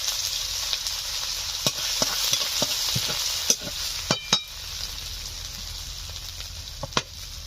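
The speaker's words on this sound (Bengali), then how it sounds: "তেল গরম হয়ে গেছে, দিয়ে দিচ্ছি জিরে ফোড়নে, দিয়ে দিচ্ছি আদা বাটা" Cumin seeds and ginger paste hit hot oil with a constant sizzle, broken by sharp irregular clicks and taps of a spatula against the pan.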